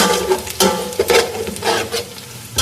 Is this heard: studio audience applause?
no